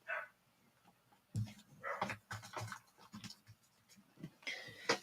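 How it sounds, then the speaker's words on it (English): A dog barks and pants in the background in a run of soft, uneven yips and scratchy bursts, faint and somewhat distant indoors. "That's why he is barking in the background."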